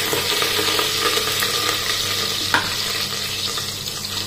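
Ground spice paste for a no-onion, no-garlic vegetable dish sautéing in a pan over low gas, a steady close sizzle and fry hiss with a few soft stirring scrapes, no voices.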